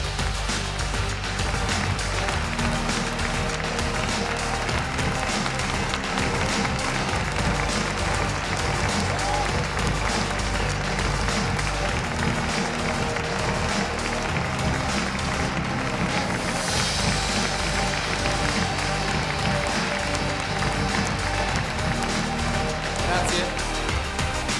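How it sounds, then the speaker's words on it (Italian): Audience applause for Lamborghini workers at the Urus launch event, a dense, steady wash of clapping lasting throughout with crowd noise and some talk underneath. "l'applauso deve essere per voi"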